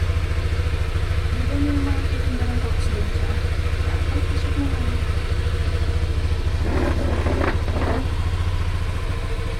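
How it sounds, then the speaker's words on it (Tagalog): A motorcycle running steadily with a constant low engine drone and rattle throughout, close by, with a few brief voices and thumps near the end. "Motor na lang kami."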